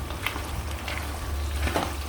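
Fresh Italian pasta being stirred with sauce in a pan, a steady close sizzle and frying hiss with a few soft scraping stirs, no voices.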